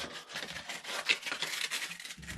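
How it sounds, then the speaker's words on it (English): Sandpaper rubbing the corners of a wooden slingshot band-tying jig, a steady close scratchy rasp in quick back-and-forth strokes, fairly quiet, with no voices. "sand these corners so it's not going to rip your bands when you're clamping them on"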